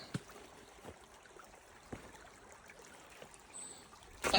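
A clear mountain stream trickles softly along the Appalachian Trail in cold weather, with faint steady water sound, scattered footstep-like knocks and a louder rustle at the end.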